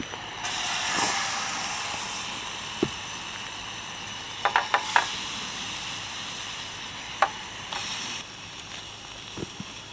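Pasta sauce heats in a pan at a campsite. It gives a steady, soft hiss and sizzle that runs throughout, broken by a few small clicks and taps of cookware.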